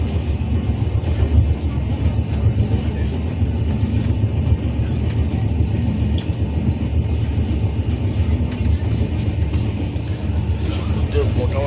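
A train rolls through a station under a cloudy sky, heard from on board as a loud, steady low rumble with rattling, and a voice talks over it.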